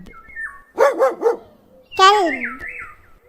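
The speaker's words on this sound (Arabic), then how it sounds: "كلب." A dog gives a quick run of three sharp barks, then a longer yelping bark, close and clear with quiet gaps around them.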